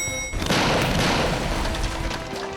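An ostrich egg bursting in a microwave: a sudden loud booming burst after a brief hum, followed by a dense noisy wash that slowly fades.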